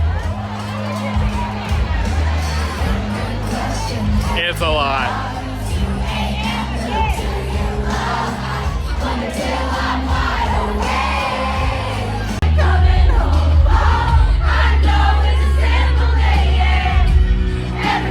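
A large crowd at a DJ dance party shouts and cheers continuously over thumping dance music with heavy bass, loud and dense, with a few spoken words mixed in.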